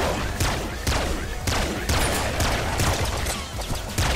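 Rapid weapon fire from the Nuclear Throne video game, a dense run of repeated sharp shots with thudding impacts, loud and continuous for about four seconds.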